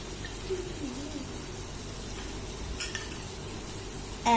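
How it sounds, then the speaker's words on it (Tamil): Ginger garlic paste and tomatoes sauté in a miniature pan for paneer butter masala, giving a soft, steady sizzle with faint scraping and stirring, ending with a brief clink of a utensil. "இஞ்சி பூண்டு பேஸ்ட் பச்சை வாசனை போற வரைக்கும் நல்லா வதக்கி விட்டுக்கலாம்"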